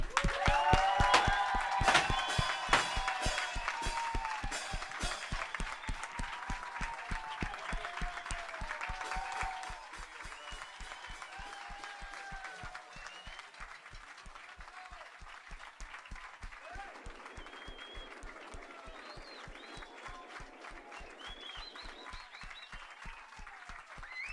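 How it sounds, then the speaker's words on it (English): A school audience at Aranzadi Ikastola gives a long round of applause after a radio contact with the space station, dense and loud at first, then thinning and softening, with faint electronic tones underneath. "Can everybody give that real big round of applause, please?"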